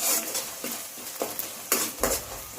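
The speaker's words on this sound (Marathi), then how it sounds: "त्याच्यात अद्रक लसूणची पेस्ट घालून घेऊ. त्याला चांगलं परतून देऊ" Ginger-garlic paste being stirred into browned onions in a pan for anda masala, a spoon scraping and clinking against the pan in quick irregular strokes over a soft frying sizzle, close and alone.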